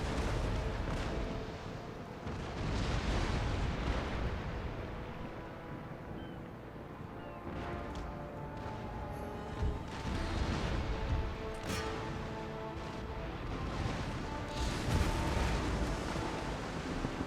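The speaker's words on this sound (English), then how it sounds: "destroy him with a bloody great broadside" Naval cannon broadside from sailing warships in Empire: Total War, heard as heavy rumbling booms rolling over one another amid a steady low roar of wind and sea, fairly subdued and distant.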